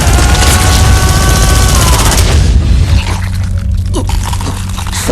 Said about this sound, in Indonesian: tembakan bertubi-tubi dari kaiju tersebut mengenai Ichikawa